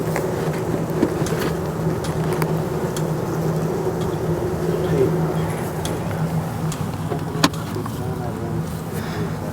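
Honeybees buzzing in a newly installed hive, a steady low drone throughout with a few faint ticks and bumps, close by and continuous, no talk.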